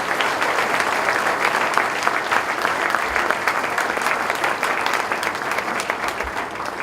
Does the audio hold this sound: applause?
yes